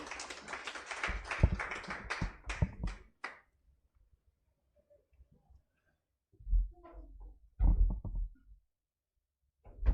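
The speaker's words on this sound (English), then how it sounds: "Let's give him a round of applause." A burst of clapping from a group welcoming a keynote speaker at a regulations launch event, lasting a few seconds, then quiet with scattered knocks and shuffling sounds.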